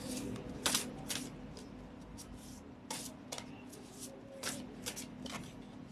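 Tarot cards being shuffled by hand in quiet short riffles and bursts, close and soft, with a few sharper flicks of the deck against a low steady background hum.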